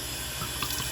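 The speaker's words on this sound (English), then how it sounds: "and we're just going to rinse our bottle out." Tap water runs into a sink while an old foil-label bottle is rinsed out, a close, continuous rushing splash that stays steady for the whole moment.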